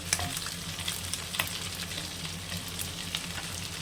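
Mushrooms fry with onions in a pan, making a continuous close sizzle with scattered spatter ticks and faint stirring, moderately quiet, with no speech.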